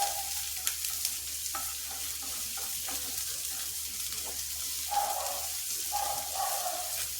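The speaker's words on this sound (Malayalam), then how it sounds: "എന്നിട്ട് ഇതൊരു ബ്രൗൺ നിറം ആകണ വരയ്ക്ക് ഒന്ന് നമ്മളിത് വഴറ്റിയെടുക്കണം" Ingredients for a Kerala curry sauté in a pan until brown, giving a steady soft sizzle and frying crackle with occasional stirring scrapes, close by and with no talk.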